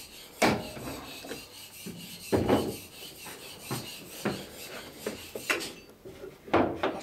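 Wood being trimmed on a boat's centreplate case, a series of separate rasping, scraping strokes spaced irregularly, fairly close and moderately loud, with no voices.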